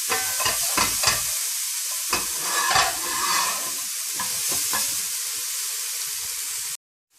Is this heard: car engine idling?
no